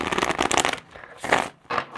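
Tarot cards are shuffled up close in quick riffling bursts, a dense flurry of papery flicks followed by two shorter shuffles with brief pauses between.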